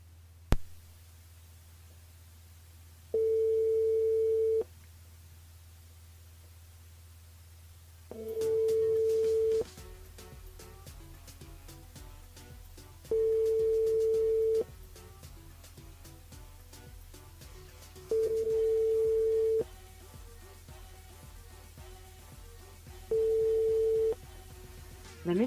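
A telephone ringback tone sounds repeatedly during a live radio call to a listener, steady tones of one pitch repeating at regular intervals over a low hum, with talk in the gaps.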